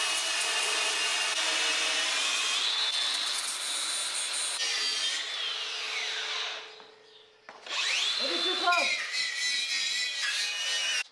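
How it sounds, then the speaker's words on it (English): Angle grinder grinding excess weld bead off a steel early Ford Bronco frame, a loud continuous abrasive whine that briefly drops off near the end before the grinding resumes, close up. "I'm just gonna grind down this little extra bit right here that I did."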